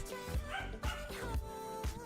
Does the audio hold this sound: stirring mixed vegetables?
no